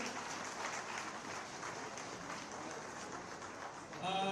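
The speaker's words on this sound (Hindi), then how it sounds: "कृपया जोरदार तालियों से स्वागत कीजिए।" Continuous crowd applause welcoming guests onto the stage at a community event in Amritsar, Punjab, a broad steady patter of many hands held at an even level, with a brief burst of other sound at the very end.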